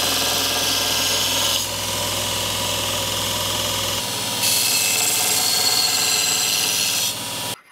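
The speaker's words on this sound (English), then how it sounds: "For sharpening an axe, you can use a file, a sharpening stone, or a grinder." Bench grinder running steadily while sharpening a steel axe blade, a loud continuous whine and hum that shifts in pitch and strength partway through as the blade is pressed against the wheel, then cuts off at the end.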